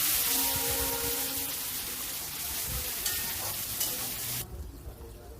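A green chilli spice paste fries in a pan, giving a dense close sizzle with stirring scrapes that cuts off sharply near the end, leaving quieter sputtering, no speech.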